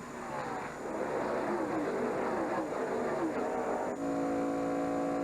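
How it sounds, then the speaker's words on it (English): A NASCAR Xfinity Series race car engine drones steadily with a rising, shifting pitch, loud and continuous, with a crowd-like wash behind it and a change in tone near the end. "Listening to Kenseth's engine, seeing if it rumbles at all"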